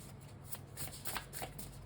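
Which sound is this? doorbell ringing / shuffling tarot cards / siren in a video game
shuffling tarot cards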